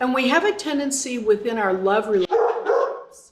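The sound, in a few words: dog barking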